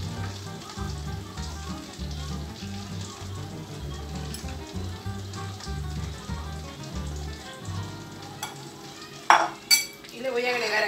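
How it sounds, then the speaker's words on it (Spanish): Potatoes sizzle steadily in hot oil for homemade papas fritas alongside pollo a la brasa, a close, even frying hiss with occasional stirring clinks and a couple of sharp utensil knocks near the end. "Le voy a agregar su papa, vamos a acompañar con papas fritas"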